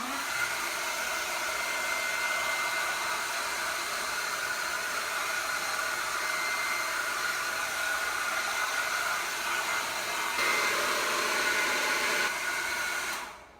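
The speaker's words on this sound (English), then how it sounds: "then I can pull out the hairdryer" A hair dryer blows steadily and loudly at close range, an unbroken whooshing whir that holds for several seconds before cutting off at the end.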